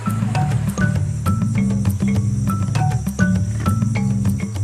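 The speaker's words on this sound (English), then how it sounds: "First, they need to catch the bait, jungle crickets." Jungle crickets in the Amazon rainforest chirp loudly and continuously, with dense, rapid pulsing trills layered over a steady buzzing hum and no voices.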